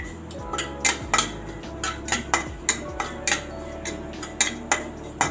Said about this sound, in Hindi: ये मसाले मैं इसमें ऐड कर रही हूँ।